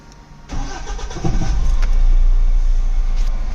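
A Mahindra BS6 CNG pickup truck engine cranks over and catches about half a second in, then revs up loudly and settles into a strong, rumbling run nearby.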